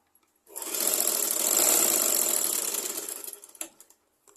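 Sewing machine running a continuous stitch along a petticoat shoulder seam, one steady whirring burst of about three seconds, close and fairly loud, ending with a few quick clicks.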